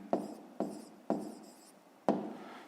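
A pen writes by hand during a fifth-grade maths exercise, with four distinct quick strokes, each a sharp scratch that fades, close and quiet with no talking.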